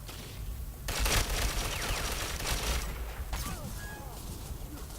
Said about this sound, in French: Ah, je suis pris des tirs.